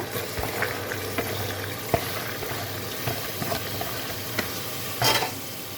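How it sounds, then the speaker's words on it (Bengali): Mixed vegetables sauté in a pan with a continuous close sizzle, broken by occasional scrapes and knocks of stirring and one louder clatter near the end. "তো আমি এটা ভালোভাবে কষিয়ে নিব আমার এটা মোটামুটি কষানো হয়ে গেছে"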